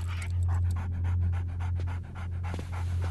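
A dog pants rapidly and rhythmically close by, a steady string of quick breathy huffs that briefly falter before resuming.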